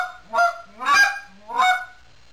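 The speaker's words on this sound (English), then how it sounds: "here's just a clean cluck." A goose call blown to make a clean cluck gives three short, sharp honking notes, evenly spaced and loud, with nothing else around them.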